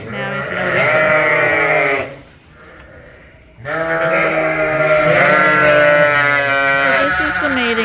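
Sheep bleat loudly and repeatedly at close range while being sorted into weaned lambs and breeding groups on a farm, with a brief quieter gap midway through.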